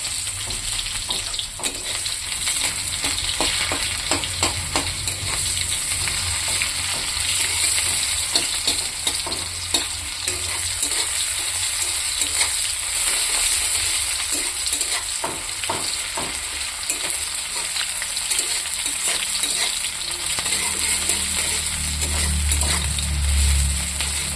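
Continuous loud sizzling of onions frying in a hot pan, with occasional stirring scrapes, steady and close throughout.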